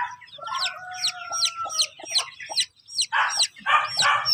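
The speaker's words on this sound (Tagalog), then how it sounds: "Update ko kayo sa sa mga sisiw natin, ipapakita ko sa inyo." Chicks cheeping loudly and close, a rapid series of high chirps, with clucking fowl mixed in toward the end.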